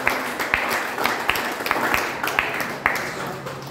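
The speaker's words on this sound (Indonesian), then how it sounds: "Beri tepuk tangan bagi Tuhan" Church congregation clapping during a worship service, steady rhythmic claps in unison with a few louder accents, fairly close and continuous.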